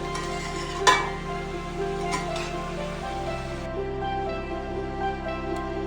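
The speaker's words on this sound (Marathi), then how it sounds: "हे मीठसुद्धा आपल्याला व्यवस्थित ह्या भाज्यांमध्ये मिक्स करून घ्यायचं आहे" Salt being stirred through vegetables in a pan, with a soft continuous sizzle, a sharp clink near the start and light scraping strokes; close and steady, no talking.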